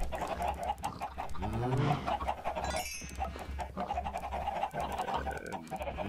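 Video game chickens cluck repeatedly in a busy, overlapping chorus, with a few squawks mixed into a steady low background.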